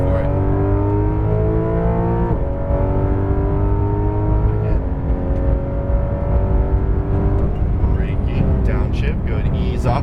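Porsche 911 GT3 accelerating hard on a race track, engine note climbing loud and close through the gears with brief shift breaks, an instructor's voice talking over it.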